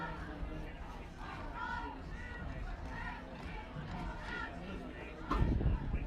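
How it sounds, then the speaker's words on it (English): Football crowd at Husky Stadium late in a night game, a steady low roar of distant chatter and cheering under close-up commentary talk, swelling briefly near the end. "Still a good crowd here."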